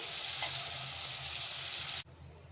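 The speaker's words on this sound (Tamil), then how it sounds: "கடாயில் பட்டர் சேர்த்துக்கலாம்" Butter sizzles in a hot kadai, a steady bright frying hiss that fills the clip and then cuts off abruptly near the end, leaving a quieter room.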